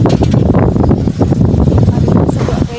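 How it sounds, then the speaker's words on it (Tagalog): Strong wind buffets the microphone in heavy, gusty rumbles, with rough noise filling the whole stretch. "Grabing hangin."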